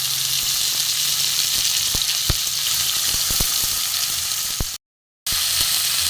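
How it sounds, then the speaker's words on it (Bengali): Garlic, chopped onion and green chilli sizzle loudly in a hot pan, a constant close frying hiss with a few stirring clicks and a brief gap near the end. "রসুনটা একটু ভেজে নেব এখানে পেঁয়াজ কাঁচা লঙ্কা চপ করা ছিল দিয়ে দেবো"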